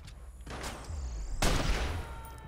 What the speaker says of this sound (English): time to bring out the sniper